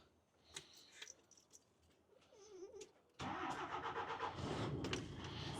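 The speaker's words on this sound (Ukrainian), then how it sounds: "Все, машина у нас завелась." A DAF dump truck converted from a tractor unit cranks and its diesel engine catches, settling into a loud steady idle after a few seconds of quiet shuffling and faint clicks.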